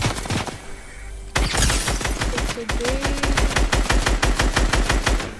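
Rapid minigun fire in a multiplayer shooter game, a dense stream of evenly spaced loud shots running almost continuously after a brief opening burst, with faint voice underneath.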